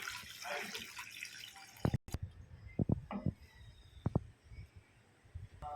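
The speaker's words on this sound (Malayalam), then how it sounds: "ഇനി നമുക്ക് ഇതിനകത്തേക്ക് ആവശ്യത്തിന് വെള്ളം ആഡ് ചെയ്ത് കൊടുക്കാം" Water poured into a pan of browned Maggi noodles, with a gentle trickle and scattered drips and small splashes, close by and fairly quiet, without speech.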